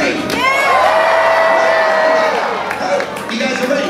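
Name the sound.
audience cheering at SeaWorld show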